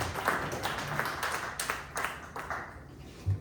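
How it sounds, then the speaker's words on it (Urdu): An audience at an Urdu poetry gathering claps for a poet, with scattered, uneven handclaps running steadily throughout, faint and somewhat distant. "ایک مرتبہ زوردار تالیوں سے جیسا آپ کا حق ہے ڈاکٹر نوشاد صاحب کو بلائیں"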